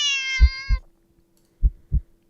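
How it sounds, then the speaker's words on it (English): A cat in a scary video game gives a drawn-out meow over two soft thumps, followed by a pause and two more heavy thuds like heartbeats, close and isolated with no talking. "The cat meows at you again,"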